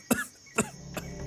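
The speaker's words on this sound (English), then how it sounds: "Cough?" Three separate coughs from one person in a cough syrup advert, dry and close, evenly spaced with short gaps, the last one weaker.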